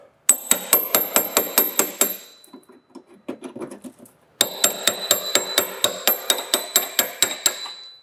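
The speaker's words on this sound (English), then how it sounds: "get in between those layers and just start chiseling it off." Repeated sharp metallic chisel strikes on rusted, bulging layered sheet metal of a car body during rust repair, a steady rhythmic hammering in two bursts with a brief scraping pause between, close and loud.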